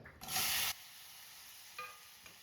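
Tomatoes dropped into hot oil for a coriander and mint pachadi give a loud burst of sizzling for about half a second, then settle into a quieter steady crackle with a couple of faint clinks.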